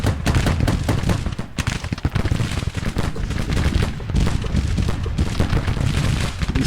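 Rapid Gatling gun and artillery fire in the Civil War strategy game Grand Tactician, a loud, dense stream of overlapping shots and booms rolling on without pause.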